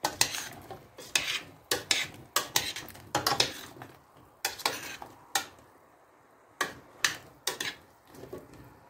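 Marinated button mushrooms being stirred in a pot, a series of close clinking and scraping strokes in an irregular rhythm with short pauses between bursts, with no talk.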